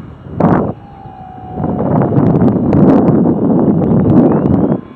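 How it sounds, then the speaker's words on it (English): Strong, steady wind blasts across an outdoor microphone during a model aircraft flight, a brief gust first and then a sustained heavy roar that runs loud and close for several seconds. "A lot of wind, pretty steady, heavy now."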